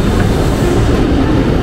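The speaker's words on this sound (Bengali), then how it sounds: "এই হলো সেই বুলেট ট্রেনটা" A Japanese Shinkansen bullet train on the Tokyo–Kyoto line rushes past, a loud, steady, broadband roar and rumble with no break across the short moment.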